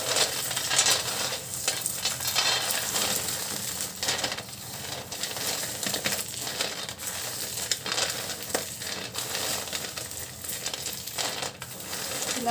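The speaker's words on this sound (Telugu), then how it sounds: "ఇలా నలిపేస్తే పొట్టు త్వరగా పోతుందండి." Dried roasted peanuts crushed and rubbed between the hands to loosen their skins, a continuous close crinkling, rustling crunch that runs steadily throughout with no talking.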